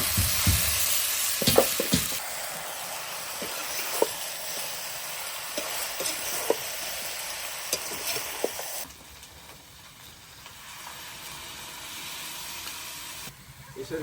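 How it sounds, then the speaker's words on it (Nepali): Local chicken sizzling and frying in a pan while being stirred, with a steady loud hiss broken by sharp scraping clicks, then quieter after water is added. "यसरी ट्याक्क लाएर थोरै पानी हाल्दै यस्तो लोकल कुखुरालाई चाहिँ मस्त तरिकाले पकाउनु होला।"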